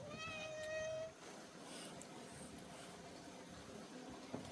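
A hungry cat meows in a clear harmonic call during the first second, with a fainter mew near the end, over steady outdoor background noise at a rural home meal.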